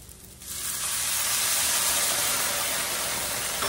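Water poured into a hot pan of sauteed vegetables for Tex Mex rice bursts into loud, steady sizzling and hissing steam after a brief quieter moment.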